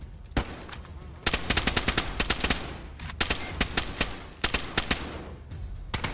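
Rapid bursts of automatic gunfire crackle in quick succession in the video game DayZ, loud and close, with brief pauses between volleys.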